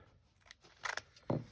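Scissors trimming the edge of a junk journal paper page, a few quiet snips followed by one louder crisp cut near the end, close and without talk.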